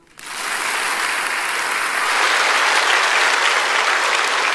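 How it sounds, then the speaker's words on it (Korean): Church congregation applauding during a Korean Sunday sermon: a dense, steady wash of clapping that swells in quickly and holds loud and sustained throughout, with no voices. "박수."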